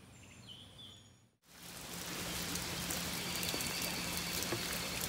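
Steady rain falls outdoors after a brief quiet gap, a dense, even hiss of drops on surfaces that stays loud and constant, with faint bird calls in the background early on.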